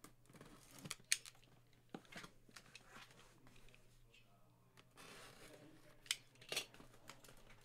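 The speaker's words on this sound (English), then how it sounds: "going to cut the sides first, and then we'll cut down the middle" Scissors snip through the foil wrapper of a baseball card pack in a few short, quiet cuts, one along each side and one down the middle, with soft crinkling and handling noises between them.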